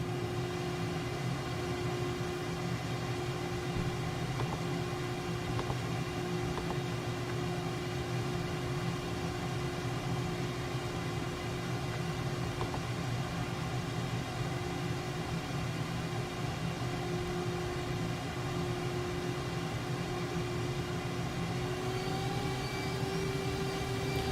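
An airplane departing in Microsoft Flight Simulator 2020 drones steadily with a constant engine tone and broad airy noise, holding an even level throughout, with no talk.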